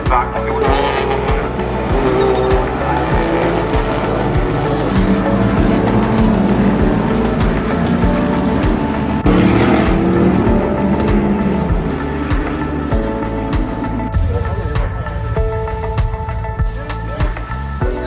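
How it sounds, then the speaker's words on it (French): Race cars lap a racing circuit, engines roaring loudly past one after another as tires squeal and skid through the corners, with a continuous, busy trackside din. "on va revoir les mêmes voitures tourner en rond"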